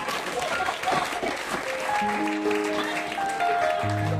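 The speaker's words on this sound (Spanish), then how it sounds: "Pero un aplauso a Cristo, aleluya." Church congregation applauding during a sermon, a dense wash of clapping with crowd noise at moderate level, joined partway through by sustained musical tones underneath.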